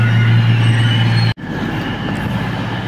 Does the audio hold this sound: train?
yes